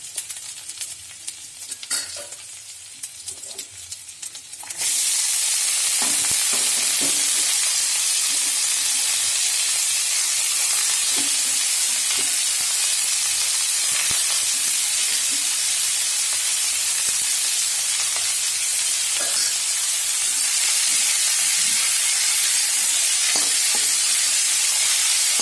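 Small fish fry in hot oil with stirring before banana stem goes in; after a few quiet seconds of light scraping, a loud, steady hiss of sizzling takes over, with occasional utensil scrapes.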